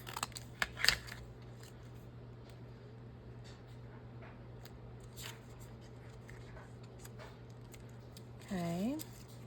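Scissors cutting a thick craft piece in half, heard as a few sharp close snips early on, followed by quieter handling and a brief squeak near the end.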